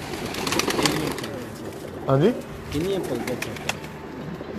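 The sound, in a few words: pigeons cooing on a rooftop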